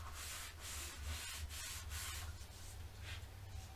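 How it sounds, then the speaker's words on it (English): A glued paper page in a mini album is burnished by hand, giving a soft, continuous rubbing and scraping close by, with faint repeated strokes and no talk. "And I will burnish it."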